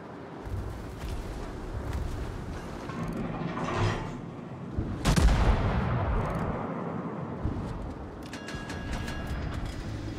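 The guns of the HMS Defence, a Tier 10 cruiser in a naval video game, fire in heavy booming blasts. The loudest blast comes midway, with rumbling and mechanical battle noise around it.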